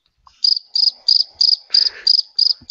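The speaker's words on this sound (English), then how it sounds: "That's a very nice cricket noise." Recorded cricket chirping, played back as eight evenly spaced, loud, high trilling pulses close to the listener, with a brief rustle under one of the chirps.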